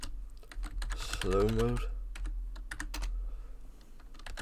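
Typing on a computer keyboard while coding a Discord.js bot, a run of quick, sharp clicks and taps at close range, with someone speaking briefly over it.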